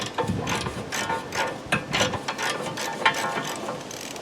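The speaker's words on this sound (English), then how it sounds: "just use a couple extensions, a ratchet" A ratchet on extensions turns the nuts holding the blades on the chute of an older MTD 10 hp wood chipper, giving repeated close clicking strokes in short uneven bursts, with no talking.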